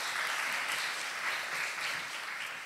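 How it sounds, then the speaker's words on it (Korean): Audience at an international arts education forum gives a round of applause to thank the speakers, a steady soft wash of clapping from a hall, fairly distant and even throughout. "감사의 박수를 좀 부탁드릴게요"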